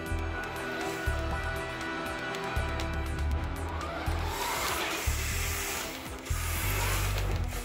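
The wheels of a 1/10 scale Aston Martin RC car turn with a loud, rough grinding and whirring that comes in repeated bursts and changes in pitch, close up.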